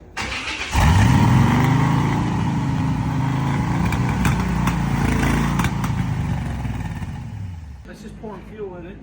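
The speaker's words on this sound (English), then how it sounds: "Try to start it up one more time." A Corvette engine cranks and catches, then runs loudly with a rough, steady idle for several seconds before settling lower; a voice is briefly heard near the end.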